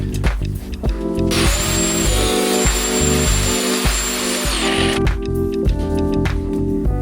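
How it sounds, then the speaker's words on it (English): An angle grinder trims the rear of a Ducati 916 fuel tank, cutting in with a loud, close, high-pitched whine for several seconds, set between shorter bursts of the motor spinning. "me hacking up incredibly expensive parts with an angle grinder, I just need to trim the back of this fuel tank just a little bit"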